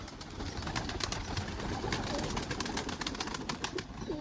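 Pigeons cooing softly on an outdoor perch by the sea, low murmuring calls over a steady wash of wind and ambient noise, faint and continuous.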